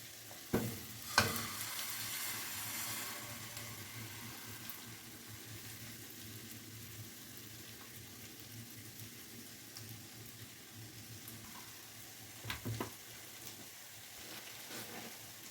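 Savory crepe batter sizzles steadily in a hot frying pan, a soft continuous hiss with a few sharper scraping clicks near the start and again toward the end.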